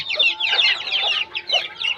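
A farm chicken clucking in quick repeated bursts, several short calls close to the microphone, clear and fairly loud with no voices.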